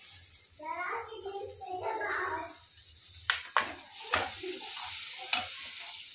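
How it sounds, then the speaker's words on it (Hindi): Chopped onions fry in a pan with a soft sizzle under voices at the start, then sharp clinks and scrapes as a utensil stirs them against the pan. "प्याज डाल के थोड़ा हल्का सा भून के लेते हैं"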